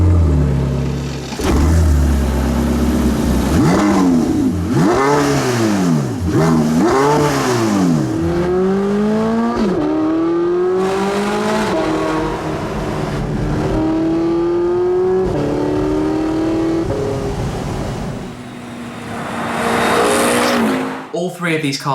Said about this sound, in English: The exhausts are right behind your head and they sound absolutely phenomenal.